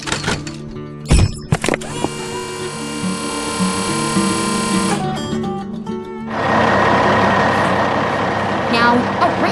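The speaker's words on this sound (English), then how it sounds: "Now, a red tow truck arrives." A red tow truck arriving at a cleanup site, with a steady engine drone and whine, a few loud clunks early on, and a rougher, louder engine rumble over the last few seconds.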